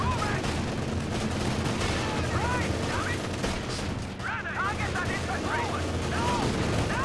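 Rapid, overlapping gunfire from a video game battle with riflemen and mortars: a dense, loud barrage of shots that runs without a break for the whole stretch, with voices mixed in underneath.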